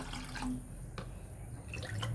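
Water poured into a pot of lepat cendol mixture, faint trickling and dripping close by against a soft background hum, no speech.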